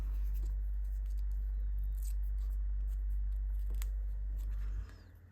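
Scissors cut through paper for a heart-shaped craft, a few soft snips close by over a steady low hum, with a brief louder snip near the end and no talking.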